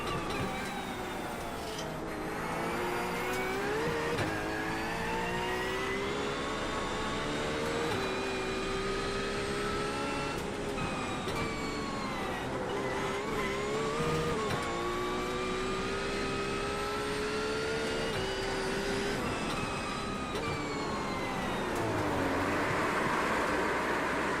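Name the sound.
GT3 race car warming up tires at Bathurst, racing game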